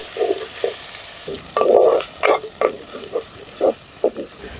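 Green chillies frying with salt in a pan, stirred in short bursts: soft scraping and sizzling strokes, close and fairly loud, in uneven rhythm with brief pauses.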